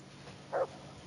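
A dog in the video game Kingdom Come Deliverance gives one short, soft whimper, faint against a quiet background.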